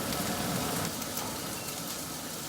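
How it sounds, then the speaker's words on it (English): A steady, broadband whoosh of a kitchen exhaust fan running continuously while beef and broccoli cook, fairly loud and even, with no voices. "Let me just turn on the fan here"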